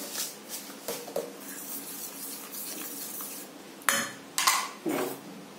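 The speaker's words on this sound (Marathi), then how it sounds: "चमच्याने फिरवून घ्यायचं, साखर विळली की हे झालं तयार" A spoon stirring banana, milk and sugar in a bowl, with soft scraping swishes and a few sharp clinks of metal against the dish toward the end, close and quiet, no talking.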